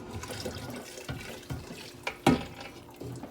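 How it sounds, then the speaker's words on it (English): Lamb stock is poured from one pot into another in a home kitchen, giving a soft, close liquid splash and trickle in uneven bursts, with one louder gush near the end. "Grab my pot holders and we'll just pour it into the pot."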